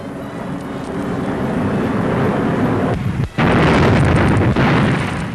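A Nazi fighter plane shot down and exploding over Libya in 1942 during an attack on a bomber formation. A loud, dense, continuous roar fills the clip, briefly dips, then surges back even stronger.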